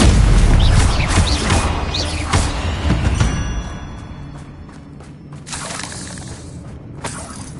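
A Confringo blasting spell explodes in the Hogwarts Legacy video game, a loud booming crash with shattering debris at the start that fades into a rumbling, settling tail.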